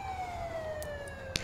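A wailing police siren from an installed siren pack in a modded Grand Theft Auto game with LCPDFR, its tone sweeping steadily downward over a low engine rumble, with a short sharp click near the end.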